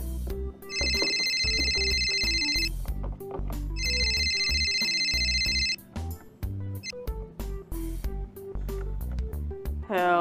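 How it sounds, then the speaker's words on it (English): A telephone rings in two bursts, each about two seconds long with a brief gap between them, over steady background music in a Littlest Pet Shop-style dramatic scene. "Whose phone is that? It's mine. I'll get it."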